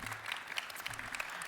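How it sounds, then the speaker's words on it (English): A summit audience claps together in steady, continuous applause at moderate distance, a dense patter of hands with no speech over it. "Let's give us a round of applause."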